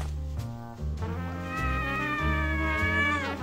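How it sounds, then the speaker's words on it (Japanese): A kitten meows in a drawn-out, wavering, high-pitched cry, close and clear, with a low held tone underneath, in an anime fight story. "シリウスその子猫ちゃんのことかいな"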